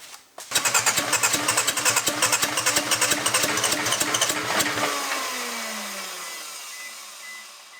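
Car engine converted from DPFI to MPFI cranking, catching and then running roughly on one injector, with loud, uneven chugging pulses for about four seconds before it sputters out and dies, leaving a fading whine and silence.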